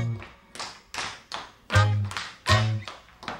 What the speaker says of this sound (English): Shoes that have taps on the bottom. They make a tapping sound when you dance in them.